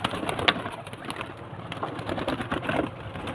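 Soft, low pigeon cooing repeats in a steady murmur, with faint rustling and fluttering noise around it.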